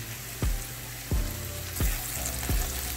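Chopped green onion whites and fresh ginger sautéing in a pan for chow mein, a steady close sizzle with four evenly spaced thumps from the utensil against the pan.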